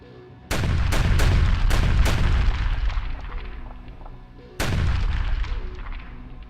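A rapid series of heavy booming fantasy fireball blasts, then a pause and another big explosion, loud and rumbling with long decaying tails.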